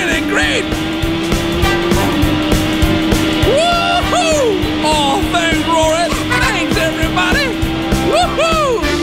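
A cartoon car named Tin Top speeds along, making loud, continuous motor noise with repeated swooping whines that rise and fall in pitch throughout.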